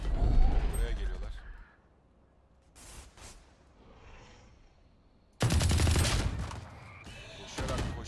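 Gunfire in Valorant: a loud burst of shots opens, a few sharp isolated cracks follow in a quieter stretch, then another dense volley, with a voice talking over the game.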